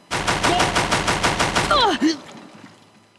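Heavy weapon in Horizon Zero Dawn firing a rapid, loud burst of about ten evenly spaced shots for nearly two seconds, followed by a short swooping electronic whine as the barrage stops.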